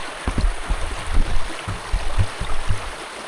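Floodwater current moving through a flooded house kitchen, with irregular low sloshing and gurgling surges close by, steady and moderately loud.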